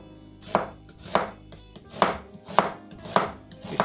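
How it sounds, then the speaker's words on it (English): A kitchen knife chops an onion into big chunks on a cutting board, landing about six sharp, evenly spaced cuts close by with no talking. "Do the rest of this a few more chops just to make sure."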